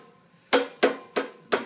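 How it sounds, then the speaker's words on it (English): Four sharp, loud metal hammer blows at an even pace drive a press-fit part flush into a Waukesha pump body, struck through a small arbor press piece, with quiet between each strike. "hammer it down"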